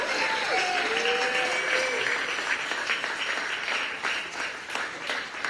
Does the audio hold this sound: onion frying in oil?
no